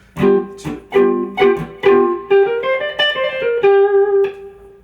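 A clean electric guitar plays a quick bluesy riff, plucked notes in bouncing triplet groupings ringing clearly with no talking.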